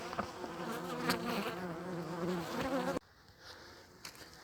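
Honeybees buzz steadily and loudly at an open styrofoam hive during a winter inspection, a dense, close hum that drops away abruptly partway through to a quieter, fainter buzz.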